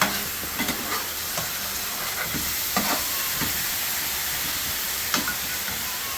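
Tamarind going into a pan of sizzling veg madras curry, a steady close frying hiss with a few sharp stirring scrapes and spits at intervals, no voices.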